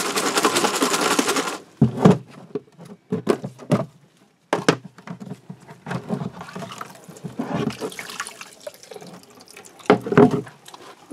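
Bicycle chain shaken in a closed container of cleaning liquid: a loud sustained rattling slosh at first, then irregular splashes, knocks and sloshing bursts, close up, with no talk.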